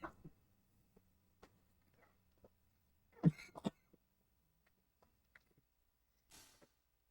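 A single short cough breaks through near silence, followed by a few faint clicks and a brief soft rustle.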